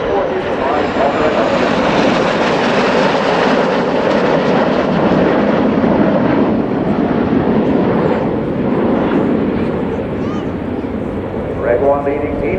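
Red Arrows jets trailing coloured smoke in a flying display roar loudly and continuously overhead, the jet noise swelling and fading slightly as they pass, with a commentator talking over it throughout.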